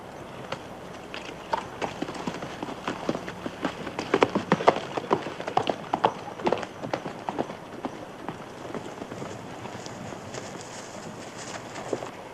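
Horse hooves clatter in quick, uneven beats, growing louder in the middle as the animals pass near, then trailing off into a softer rumble.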